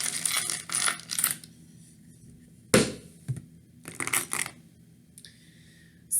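Small metal charms jingle and clink as they are shuffled for a reading, in several brief clattering bursts with a sharp knock midway and quiet gaps between, close up.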